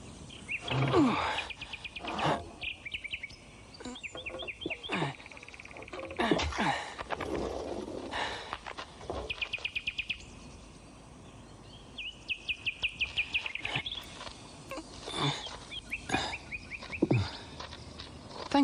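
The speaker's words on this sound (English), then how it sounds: "It's very kind of you to come and sing to me." Bird chirping in short repeated trilling phrases with gaps, mixed with other scattered rustles and thumps in an animated film scene, fairly close and moderately loud.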